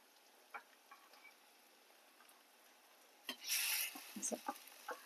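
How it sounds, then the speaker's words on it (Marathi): Masala-stuffed bitter gourds dropped into hot oil tempering, with a faint steady hiss building into a louder burst of sizzling midway, followed by sharp crackles and pops near the pan. "याला मस्त आपण फ्राय करून घेऊ"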